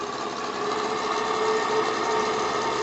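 An 8.5 cc model steam engine fed by a boiler runs in a workshop as it is sped up slightly. It gives a steady, fast mechanical chugging hum with a rattling edge, close and even throughout.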